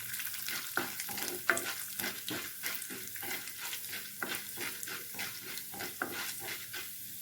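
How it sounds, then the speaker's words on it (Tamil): Toor dal and chana dal fry in hot oil, a steady crackling sizzle broken by repeated scraping strokes of a stirring spoon, close and continuous with no voices. "நல்லா வறுபட்டுறணுங்க எண்ணெயில்"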